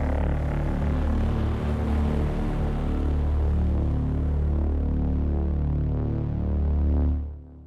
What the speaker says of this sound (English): and it's the Foghorn preset.